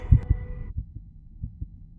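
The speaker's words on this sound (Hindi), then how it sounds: "जब आपको लड़कों की धड़कनें तेज सुनाई देने लगे तो समझ जाना कि आरा आ रही है।" Heartbeat sound effect: a deep double thump to start, then a run of softer low pulses at a fast, steady rhythm, with no speech.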